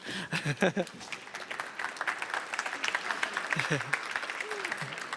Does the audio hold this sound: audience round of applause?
yes